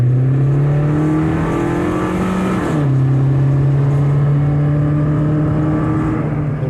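A 36-year-old automatic turbo Saab 900 Convertible accelerates on a test drive, its engine note rising steadily, dipping briefly at a gear change near the middle, then climbing again, loud and continuous from inside the car.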